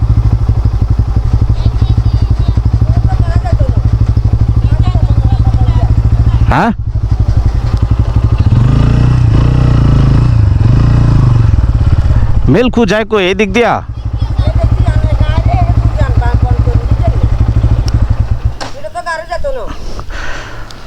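A motorcycle engine rumbles loudly and close throughout on a rural road near Chittagong, Bangladesh, briefly dipping in pitch as it slows, while people talk over it.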